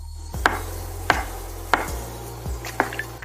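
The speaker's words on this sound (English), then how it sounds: "I'll be slicing the hunter's sausages and I'll cut them into small rounds" A knife slices hunter's sausages into small rounds on a board at a campfire cookout, making five crisp, evenly spaced cuts close by with quiet gaps between them.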